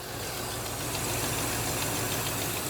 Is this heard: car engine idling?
yes